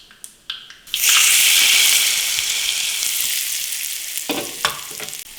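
Hot tempering of cumin and curry leaves poured into lemon chutney after a few light clinks, bursting into a loud, steady sizzle that slowly fades, with a couple of utensil taps near the end.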